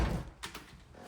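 An accordion door on a coat closet in a house entryway slides and folds with a brief rattling clatter, a couple of quick knocks close by.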